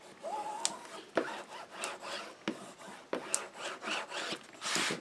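A craft tool burnishes a paper album frame, a series of close, dry rubbing and scraping strokes of uneven length with small clicks between them, fairly quiet.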